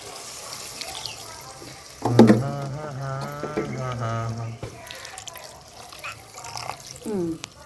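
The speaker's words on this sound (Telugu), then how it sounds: "వినోద్ ఇంకా తగిన నీళ్ళు వేసి ఉడకబెట్టేదే చూడు" Water poured into a cooking pot for a village-style drumstick curry, a steady splashing pour under a voice that talks over it, loudest for a couple of seconds before easing off.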